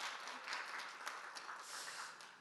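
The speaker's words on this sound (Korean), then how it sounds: "다시 한번 수고해 주신 우리 교수님께 큰 박수 부탁드리도록 하겠습니다." Applause from an audience at a regional smart-manufacturing project presentation follows a professor's talk, a faint, steady patter of many hands clapping that runs throughout without speech.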